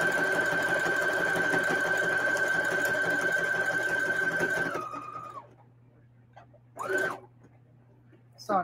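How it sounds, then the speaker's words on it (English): A sewing machine back-stitches through old denim from upcycled jeans, running in a loud, steady whir for several seconds before winding down and stopping, followed by a couple of brief short bursts of stitching. "So I'm back stitching a little bit just to hold it."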